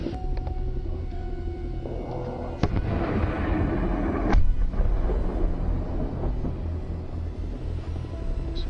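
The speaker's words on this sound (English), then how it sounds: "The bright light of a missile can be seen before the deep thud of it detonating in the compound" A missile detonates in a compound during an attack helicopter strike, giving a loud deep thud with sharp bursts and rumbling echoes over continuous low battlefield rumble.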